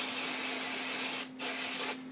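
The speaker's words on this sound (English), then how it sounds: "So what I'm going to do is go ahead and spray it down into the mold, on both molds." Mann Ease Release mold release is sprayed from a can into two plastic-casting molds, giving a steady close hiss that breaks once briefly and then continues.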